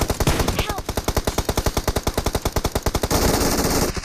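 AKM assault rifle fire in the PUBG battle royale game: a long, loud, rapid burst of evenly spaced automatic shots running nearly four seconds, with no talking.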